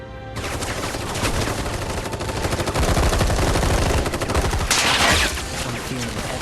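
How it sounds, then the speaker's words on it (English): Army gunfire in Final Fantasy 7 Rebirth: loud, dense automatic bursts and overlapping shots rattle on without a break, swelling into a heavier volley near the end. "Whole freaking army unloading on my position."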